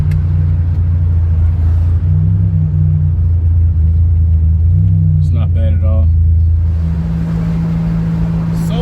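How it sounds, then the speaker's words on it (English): Buick Grand National engine idling steadily with a deep low rumble throughout, loud and close, while someone talks over it. "So far, this car is running."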